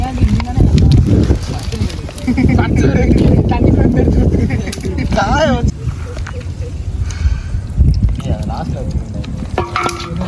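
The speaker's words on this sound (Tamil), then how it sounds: "கையில் தண்ணி ஊற்று." Water is poured and splashes in close bursts over chicken while people talk over it, with some clattering handling sounds mixed in.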